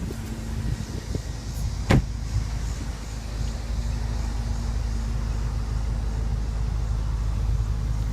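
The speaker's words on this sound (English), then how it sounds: "let's pop the trunk and see how much cargo space the trunk offers" The trunk of a 2015 BMW M6 Gran Coupe popping open gives one sharp latch clunk, followed by a low, steady background hum.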